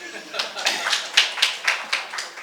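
Rhythmic group hand clapping from a conference audience at a leaders' forum on African sovereignty, about nine broad even claps in a steady beat, moderately loud and fairly close with a room wash behind.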